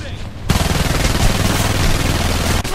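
Sustained full-auto fire from an XM10 assault rifle in Homefront during team deathmatch on the Borderlands map, a loud, dense, close stream of shots that cuts off abruptly near the end.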